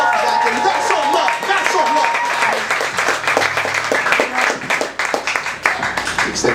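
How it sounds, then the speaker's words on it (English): An open mic audience breaks into dense, loud applause that runs without a break for several seconds, with scattered whoops from the crowd mixed in. "Can we get a round of applause to Jordan really quick?"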